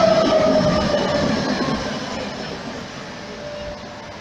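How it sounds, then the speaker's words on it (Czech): A Prague line 25 tram pulling into a stop, a steady rumbling rail roar that slowly fades, with a faint wheel squeal near the start and no speech. "přijíždí tramvaj"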